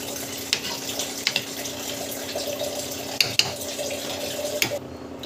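Water pours in a steady splashing stream into a cooking pot for several seconds, interrupted by a few small knocks and clinks, then abruptly stops near the end.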